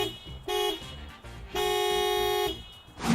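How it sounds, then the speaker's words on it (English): A Toyota RAV4 horn sounds in two honks, a short toot and then a longer sustained blast, loud and near, with no talking. "the actual sound of the RAV4's horn is this"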